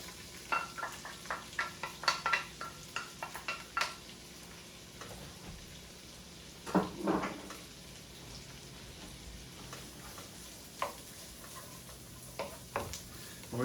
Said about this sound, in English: that popping sound is just from the moisture of the sausage and the bacon